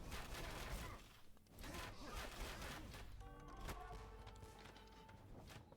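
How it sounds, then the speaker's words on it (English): Bombard cannons firing in Age of Empires II during a tournament grand final, a series of heavy booming shots over busy battle noise and galloping horses, with a commentator talking throughout. "Here are bombard cannons."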